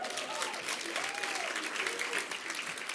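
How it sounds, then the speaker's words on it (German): Studio audience at a comedy talk show clapping continuously, a dense, loud wash of applause with voices faintly mixed in. "Das ist ein Level von Narzissmus, wenn man für sich selbst anfängt zu klatschen."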